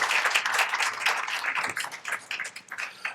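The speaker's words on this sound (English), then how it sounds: "All right, one round of applause, please." An audience at a College of Law live session applauds together, a dense burst of close clapping that fades off toward the end, with no one talking over it.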